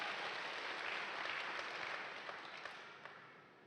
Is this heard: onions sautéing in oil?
no